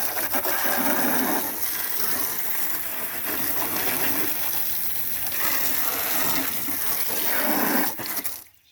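A garden hose sprays water over dried-out ATV plastics, a steady loud close hiss and splatter that continues without a break, then cuts off abruptly at the end.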